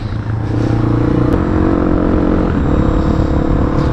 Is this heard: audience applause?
no